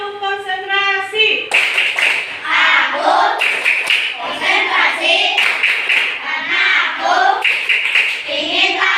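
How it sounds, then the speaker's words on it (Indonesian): A class of children claps in rhythmic bursts during a concentration clap at an elementary school, sharp, loud hand claps in groups, with an adult voice and children chanting along. "kita tepuk tangan konsentrasi dulu"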